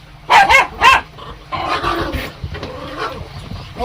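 A dog barks in a few loud, close bursts, followed by whimpering yips and excited people talking on a sailing boat heading toward a Greek bay.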